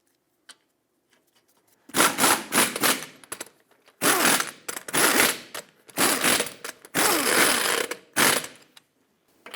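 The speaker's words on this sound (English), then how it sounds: "in a cross pattern, torque them to 79 foot-pounds." A wrench tightens the five lug nuts on a 2008-2012 Honda Accord wheel in a cross pattern. It makes repeated close, loud bursts of ratcheting clicks with brief pauses between each nut.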